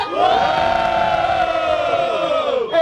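A big crowd at a freestyle rap battle roars and shouts together, loud and sustained, with rising whoops, then the noise drops off abruptly at the end.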